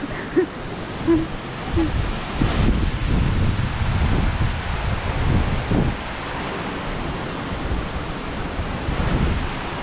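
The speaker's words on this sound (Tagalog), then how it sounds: "Mahangin" Strong typhoon wind from Typhoon Ulysses around a house, a loud, continuous roaring rush with gusty swells and rustling, no voices.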